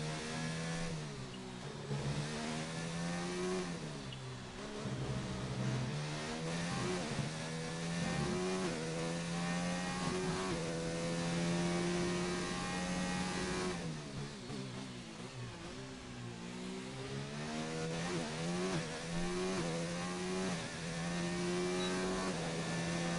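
An F1 car engine in the F1 2019 video game screams through a flying lap through the S's, its high revs climbing and dropping with each gear shift and corner, loud and continuous with no talking.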